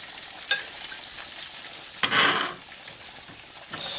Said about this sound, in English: let's deglaze the pan. Half a cup of white wine, dry white wine.